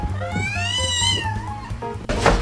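A mother cat that has just moved her kittens meows repeatedly in a rising, wavering cry, close and clear, with a brief rustle at the end.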